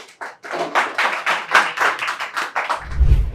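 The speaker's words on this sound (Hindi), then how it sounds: "तो चलिए एक बार इनके लिए भी जोरदार ताली" A small group in a PCB repair training class claps for a student, a handful of hands producing distinct, uneven claps close by, with a low thump near the end.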